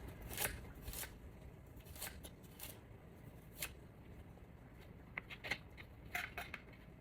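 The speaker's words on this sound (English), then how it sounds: "Then I'm gonna cut carrot." A kitchen knife cuts carrot into matchsticks on a board for japchae, producing faint, close, irregular chopping taps spread through the stretch.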